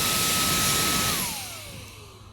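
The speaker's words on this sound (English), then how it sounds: "I think this is a great option for anyone that's just looking for a handheld blower" Cordless handheld air duster running on Dewalt batteries: a loud, steady high-pitched motor whine that spins down with a falling tone after the trigger is released, close up and with no talk.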